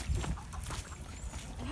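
Backyard chickens cluck faintly amid low background noise near a pool, with soft scattered bird calls.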